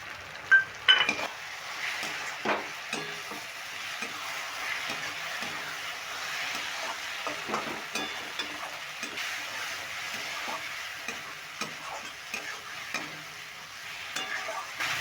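Spice masala mixed with crushed dried fenugreek leaves is stir-fried in a pan for an egg tadka, a soft steady sizzle under repeated clinks and scrapes of a utensil against the metal, fairly quiet and with no talking.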